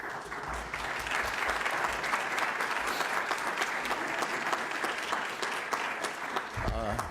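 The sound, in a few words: applause for executive director Sean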